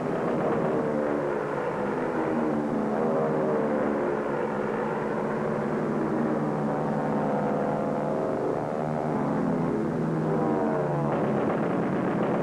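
Military aircraft flying over Okinawa in 1945 during ground support operations, a steady loud engine drone with layered harmonic hum that holds throughout, a slight shift near the end and no voices.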